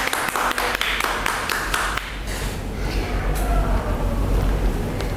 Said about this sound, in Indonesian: Silakan tepuk tangan untuk kelompok 3.